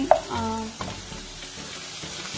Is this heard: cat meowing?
no